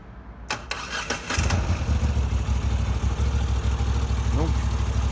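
A Moto Guzzi V85 TT motorcycle cranks with a few quick starter whirs, then its engine catches and settles into a loud, steady, close idle, with a voice briefly heard over it.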